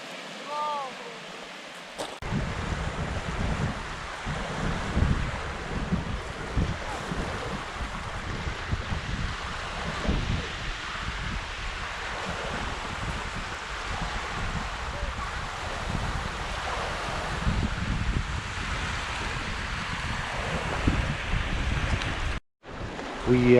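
Wind and lapping water along the shore of a Scottish loch, a steady broad outdoor rush with gusting wind noise on the microphone, continuous and fairly loud throughout.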